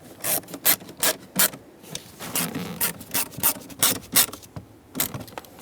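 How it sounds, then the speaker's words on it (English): Screws being threaded by hand into the plastic glove box of a 2012-2018 Nissan Altima, making a steady series of short, close rasping turns in an even rhythm with no talking. "Take the bottom screws and thread them in. Snug them up."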